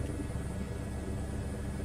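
A helicopter in Microsoft Flight Simulator 2024 gives a low, steady rotor rumble with a faint rhythmic chop, heard alone at moderate volume.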